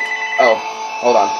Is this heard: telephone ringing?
yes